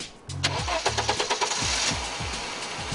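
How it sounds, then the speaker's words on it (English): Two car engines, freshly filled with new engine oil, crank with a quick series of rhythmic starter pulses, then settle into a steady, close idle with a low rumble. "We turned on and idled both engines for 10 minutes."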